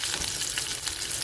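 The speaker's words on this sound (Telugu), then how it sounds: "ఇందులో కొంచెం వెల్లుల్లిపాయలు వేసుకుందాం" Garlic sizzling in hot oil as tempering for a tomato coriander chutney, a close, steady crackling fry with faint stirring textures throughout, no voices.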